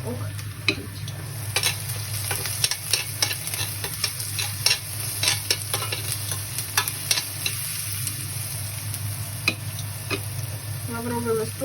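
Roux for sorrel soup fries in a pan with a steady, close sizzle, marked all the way through by repeated scraping clicks of a utensil against the pan.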